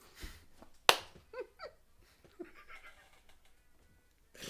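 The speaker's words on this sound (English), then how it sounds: "Here, I'll clap." One sharp, close hand clap cracks out near the start, followed by quiet laughter and soft chuckling in a small room.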